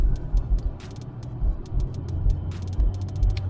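Toyota Land Cruiser 120 driving with a noise under the car, heard as a steady low engine and road rumble with faint ticking clicks over it, at moderate loudness.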